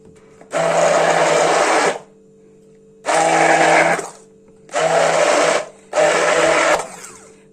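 A hand blender mixing bread dough whirs in four bursts of about a second each, separated by short pauses, loud and close.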